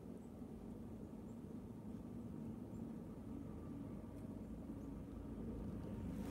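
A distant vehicle on an outdoor road in freezing cold, heard as a faint, steady low rumble with a soft rhythmic thump that continues unbroken throughout.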